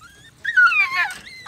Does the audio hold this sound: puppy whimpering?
yes